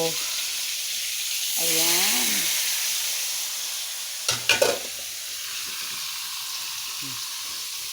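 Meat sizzling in a pan for adobong sitaw, a steady close hiss of frying with a short burst of stirring clatter midway and a voice speaking briefly over it.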